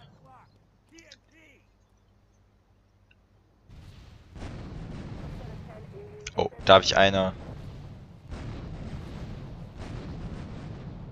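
Gunfire aimed at a car in the video game GTA 3, heavy booming shots and a sharp burst over rumbling game noise, while someone speaks German.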